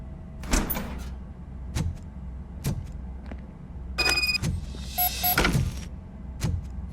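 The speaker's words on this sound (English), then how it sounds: "Now let me get that door open for you." Video game door sequence in Robocop Rogue City: a series of sharp mechanical clunks and thuds spaced through the clip, with a brief electronic beeping and whirring mid-way, heard alone without speech.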